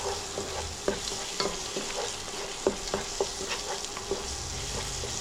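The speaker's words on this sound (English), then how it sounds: "let's give a nice quick toss to it" Potatoes and vegetables with green chili sizzle and fry in a pan while being tossed and stirred, a constant close crackling hiss punctuated by irregular clicks and scrapes of the utensil, with no talking.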